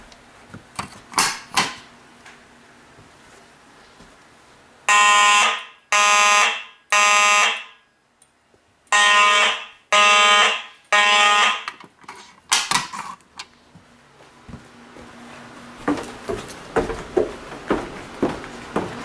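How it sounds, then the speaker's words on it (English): An electronic fire alarm in a new house, sounding during a system test from a local alarm T-bar, in two sets of three loud, evenly spaced blasts, with clicks and handling noises before and after. "the local alarm T-bar"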